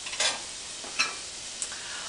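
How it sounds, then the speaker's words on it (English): Chopped onions going into hot olive oil at medium heat for vegetarian chili, a bright hissing sizzle with a few sharp clicks and scrapes as they are spread, steady and fairly close. "now at this point we're ready to add 1 cup of chopped onions"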